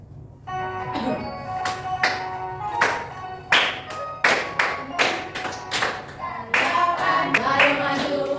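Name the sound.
children clapping hands while singing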